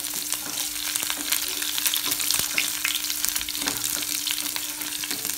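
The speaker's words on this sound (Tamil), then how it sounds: "நெக்ஸ்ட்டு தட்டி வச்ச பூண்டு ஆட் பண்ணிக்கலாம். நல்லா மிக்ஸ் பண்ணிவிட்டு" Crushed garlic frying in hot oil with fenugreek and cumin, a dense steady sizzle and crackle filling the pan, close and even throughout, with a few soft stirring scrapes and no voices.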